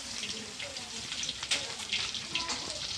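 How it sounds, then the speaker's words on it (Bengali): Meat with pointed gourd cooking in a pot on a smoky household stove, a close busy sizzle with light stirring and bubbling while someone talks over it. "বৌদি এদিকে দেখো মাংস বসিয়ে দিয়েছে পটল দিয়ে"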